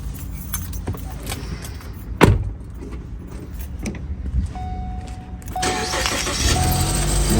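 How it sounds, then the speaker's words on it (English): Keys jangle close by before a Ford Escape (Kuga) is started after a battery replacement; the engine catches and settles into a steady idle that fills the last couple of seconds. "So we're starting the car."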